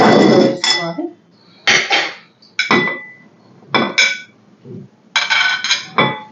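Pink dragon fruit pieces go into a bowl with several sharp, close clinks and clatters of dish and spoon in separate bursts. Quiet pauses fall between the bursts, and no one speaks.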